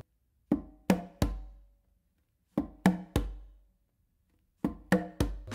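Conga strokes are played by hand in a repeating three-hit pattern of fingertip tap, close slap and deep bass tone, heard three times with short pauses between groups; close and dry with no talking.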